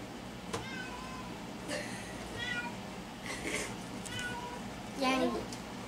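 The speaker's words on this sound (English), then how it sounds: "Yep, you hear a cat outside." A cat meowing outdoors, several short calls spread across the stretch with a stronger, louder meow near the end, set against steady background hiss and some faint voices.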